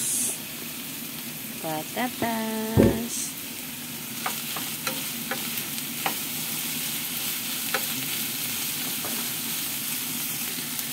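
Potatoes tumble into a pan of sizzling ground meat being sautéed, with a burst of clatter and stirring followed by steady frying hiss and light utensil scrapes, up close.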